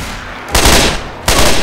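Gunfire from a gun in the video game Left 4 Dead 2: two loud, close bursts of rapid shots, each sustained for a fraction of a second with a short pause between them.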